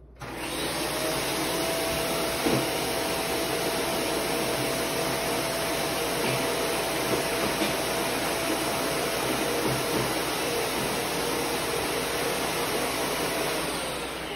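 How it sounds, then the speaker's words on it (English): A vacuum cleaner sucking dust from the vents at the base of a fridge: a loud, steady motor roar with a high whine, running continuously and close up throughout. "you want to vacuum at the base of the fridge where you'll see there's some vents"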